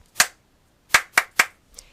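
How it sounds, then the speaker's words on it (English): Single person clapping hands as a signal to students, four sharp close claps, one then a quick run of three, followed by a faint softer tap, in a quiet room. "At 12 o'clock, you'll hear me clap like this"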